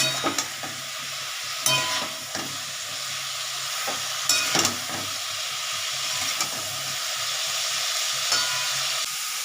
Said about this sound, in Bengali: ফুলকপিটাও ভাজা হয়ে এসছে মোটামুটি